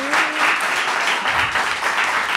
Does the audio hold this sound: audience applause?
yes